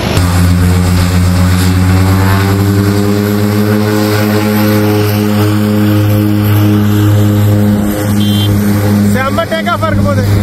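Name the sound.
airplane taking off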